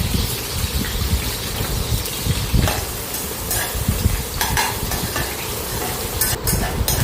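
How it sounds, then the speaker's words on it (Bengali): Sliced onions fry in a pan toward reddish brown for a home-style mutton kosha, a loud, close, continuous crackling sizzle with some scraping and clatter of a utensil, no voices. "তারপর আমি ভালো করে ভেজে নেব যতক্ষণ না পেঁয়াজগুলো একটু লাল লাল হয়ে আসছে।"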